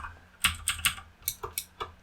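Keys clack on a Redragon K552 mechanical keyboard, about eight crisp, close strikes in uneven rhythm, alone with no talk.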